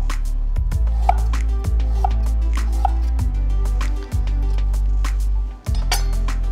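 A knife chops galangal root on a cutting board in a series of sharp, irregular knocks, close and distinct, with light clinks between strokes.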